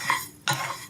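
Toasted quinoa stirred in a hot pan, two quick scraping sweeps of a utensil across the metal, close and brief.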